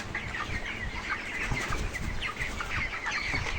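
Broiler chickens cluck and chatter steadily throughout, several birds close by, with a busy farmyard murmur underneath and no voices.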